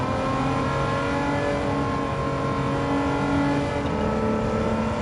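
A DeLorean on its stock engine driving in Gran Turismo 7, a steady droning engine note held close and loud with a slight rise in pitch, no talk over it.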